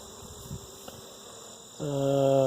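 Steady buzzing of honeybees in a young hive being smoked during an inspection, a continuous droning hum that grows louder and fuller toward the end, close by.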